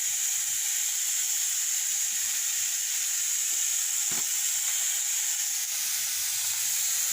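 Cumin powder fries in hot oil for a koi fish curry, giving a loud, steady hiss that runs unbroken from start to finish.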